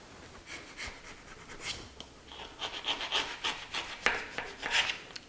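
Dried grease is scraped off a Harrison universal mill, heard as close, quiet, irregular scratching strokes that grow busier and louder toward the end.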